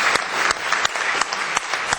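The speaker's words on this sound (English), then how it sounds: "I would like to give them a huge clap." Conference audience applauding at the close of a session, a steady dense wash of clapping with a few sharper individual claps standing out, fairly loud and near, without talk.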